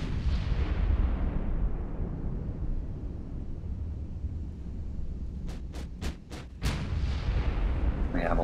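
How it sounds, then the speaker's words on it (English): Naval ship guns fire in the game Ultimate Admiral: Dreadnoughts, a steady rumbling barrage of heavy artillery booms, with a quick cluster of about five sharp cracking shots near the end and a voice speaking briefly. "All right, they've opened fire."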